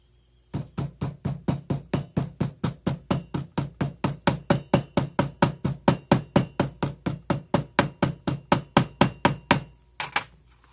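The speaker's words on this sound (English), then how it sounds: "hammer this down real well" A hammer packs sand into a 3-inch wooden sand casting flask with dozens of steady, evenly spaced blows, close and loud, each a dull thud, ending with a short pause and one final strike.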